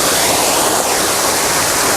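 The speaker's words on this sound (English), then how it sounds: "Not only like the sound of the waterfall is important, but how the water is actually moving." A waterfall in a Japanese garden roars as a steady, loud, close rush of falling water, broad and unbroken, with no voices.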